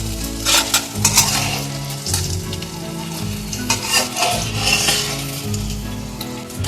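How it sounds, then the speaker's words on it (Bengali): Cashews and raisins fry in a pan for pulao, a steady close sizzle broken by scraping stirs and light clinks of a spoon against metal, with no voices. "কাজু কিশমিশটা আমার ভাজা হয়ে গেছে"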